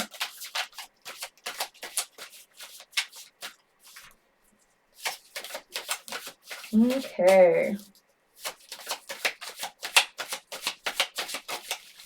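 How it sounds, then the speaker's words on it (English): Tarot cards shuffled by hand in a steady run of soft, rapid riffling flicks, close and fairly quiet, with a short pause and a brief burst of a person's voice in the middle. "Let's pull another card for that."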